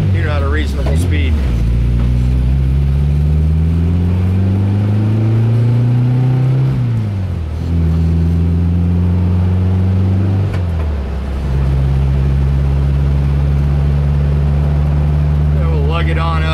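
Engine of a 1971 bus revving through the gears while driving at about 40 at 3,000 RPM, a loud close drone that climbs in pitch, drops at each shift, then holds steady, with occasional talk over it.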